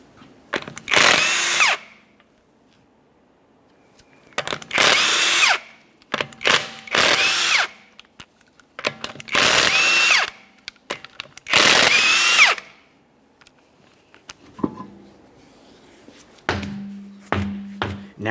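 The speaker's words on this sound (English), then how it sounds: "we'll continue on to removing all 5 of your 21mm lug nuts and then the wheel" A power tool zips off the 21mm lug nuts of a Toyota Sienna wheel in five loud, close bursts of whirring, each a second or so long, separated by quiet gaps with small clinks.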